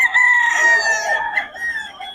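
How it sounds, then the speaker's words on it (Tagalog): A rooster crows loudly and close by, a single drawn-out call with a rising then trailing tone. "mga solid to mga manok ni Boss Russell"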